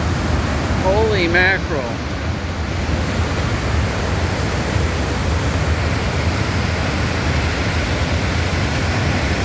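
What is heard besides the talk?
Barron Falls waterfall gushing after heavy rain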